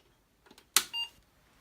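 A short, sharp click is followed by a single brief electronic beep as an Apple IIe computer powers on, clear against near silence.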